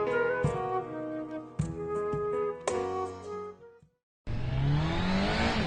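A motorcycle in a radio advertisement revs up in several loud, rising bursts, engine tone climbing with each, then cuts out briefly before a harsh, continuous roar returns.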